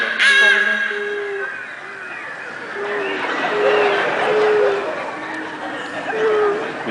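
People imitate bird calls as improvised sound effects, a steady chorus of whistled and cawing voice-made bird noises that rise and fall together over a few seconds, with crowd chatter around them.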